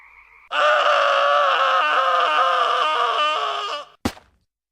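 A long, strained, groaning shriek holds for several seconds, loud and close, then ends in one sharp wet splat.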